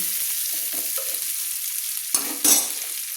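Torn green chilies and onions fry in a pan, giving a steady bright sizzle with soft stirring scrapes, then two louder clattering strokes of the spatula near the end, close and without talk.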